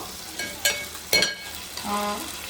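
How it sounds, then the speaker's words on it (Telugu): Raw masala frying in a pan for a Telugu-style fish curry, with a faint steady sizzle broken by a few sharp stirring scrapes and one brief tonal clink near the end; no talking. "ఇదిగోండి పచ్చి మసాలా కూడా వేసుకొని ఆ పచ్చి వాసన పోయే వరకు వేసుకున్నాము"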